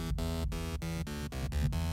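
A Serum MB Saw synth patch with unison raised to 7 for a gritty techno stab: a dense, buzzy, full-spectrum chord retriggered in short rhythmic bursts with brief gaps between hits.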